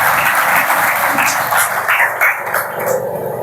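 A church congregation applauds at an anniversary service, steady loud clapping filling the room throughout with some scattered noise.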